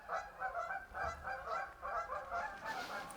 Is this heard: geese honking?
yes